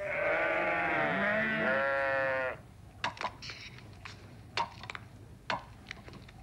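A sheep bleats once, a long wavering call lasting a couple of seconds, followed by quieter scattered clicks and knocks.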